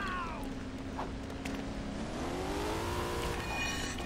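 A car driving in the LEGO Batman video game, its engine humming steadily with a rising and falling pitch that climbs toward the end. The sound is continuous and fairly loud.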